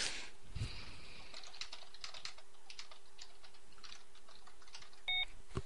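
Keyboard typing and clicks at a computer during an online multiplayer mini golf game, then a short electronic beep sounds near the end.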